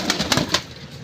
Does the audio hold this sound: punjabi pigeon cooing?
yes